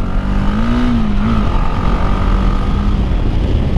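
A Bajaj Dominar 400 motorcycle fitted with a modified barrel exhaust revs loudly and close by, its engine note holding steady with a slight rise and fall.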